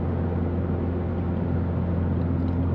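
A Subaru BRZ with a custom exhaust drones steadily while driving in a high gear, a constant low rumble that stays level with no breaks and no voices.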